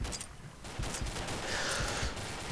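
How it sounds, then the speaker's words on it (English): Full-auto AK-47 fire in the video game Combat Arms, a short dense burst of rapid shots filling the whole clip at close range. "that's the same thing that happens when you go full auto with the AK-47"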